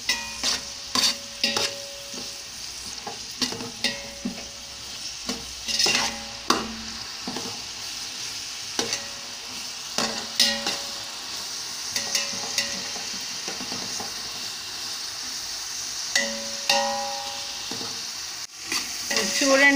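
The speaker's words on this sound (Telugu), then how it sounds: "చూడండి, ఆనియన్స్ పచ్చిమిర్చి వేగుతూ ఉన్నాయి." Sliced onions and green chillies fry in hot oil for chicken curry, a steady sizzle broken by repeated scraping stirs of a spoon in the pan, close and moderately loud with no talk.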